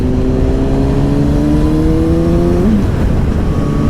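Honda CBR 1000RR Fireblade motorcycle on a road ride near Pooley Bridge, its engine revving hard with rising pitch through a gear, a sharp shift break near the end, loud and close over constant wind rush.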